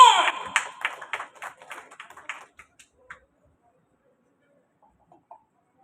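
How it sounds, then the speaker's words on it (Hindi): An audience at a literary gathering bursts into loud applause that quickly thins into scattered claps and dies away to near silence, with a faint sound near the end. "तो एक बार जोरदार तालियां बजा दीजिए"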